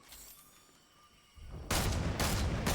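Gunfire in the video game Fortnite starts as faint, distant shots under a low background, then turns into a loud, dense burst of rapid fire that carries on to the end.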